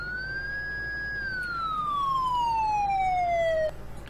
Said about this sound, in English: Now we will only be using the siren here at intersections to help out